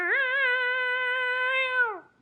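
A person imitates a cat with one drawn-out meow, a clear, sustained tone held for about two seconds before it drops off at the end.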